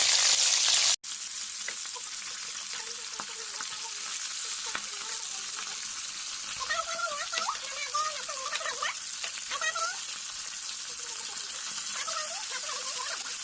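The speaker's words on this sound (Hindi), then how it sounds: "एबे तो एबे आमे माछ को भाजीबा स्टार्ट कर देला।" Fish frying in oil in a kadai, a steady sizzle running throughout with some clattering stirring sounds; a brief pause comes near the start.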